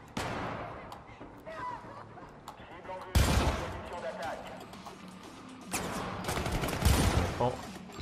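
Automatic weapon fire in the video game Syndicate on PS3 comes as loud, sharp bursts of rapid shots, one near the middle and another toward the end, over quieter game ambience.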